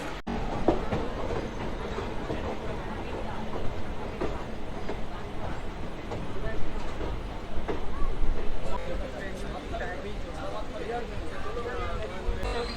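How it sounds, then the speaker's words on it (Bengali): Maa Tara Express passenger train running on rails out of Sealdah toward Naihati, with a steady onboard rumble and rhythmic clickety-clack of wheels on track joints, close and continuous, with faint voices of passengers in the background. "আর আমাদের ট্রেন এখন ছাড়লো"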